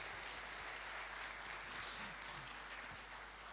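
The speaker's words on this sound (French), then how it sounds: "On va les applaudir aussi, s'il vous plaît." Applause from an audience at a French agile conference launch, heard faintly and at a distance as a steady, even patter of many hands.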